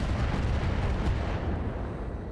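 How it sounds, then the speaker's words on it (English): Missiles and a plasma cannon firing in the RogueTech battle game, a dense continuous roar of blasts and rumbling explosions that stays loud throughout and fades slightly toward the end. "It hits its missiles there, but it misses its plasma cannon."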